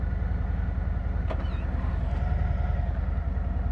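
A 2024 Harley-Davidson FreeWheeler trike engine idles in reverse with a steady, deep, throbbing pulse, close and continuous, with a faint brief click partway through.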